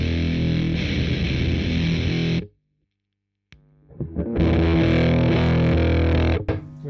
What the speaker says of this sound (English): you immediately hear that the Big Muff is quite massive in all department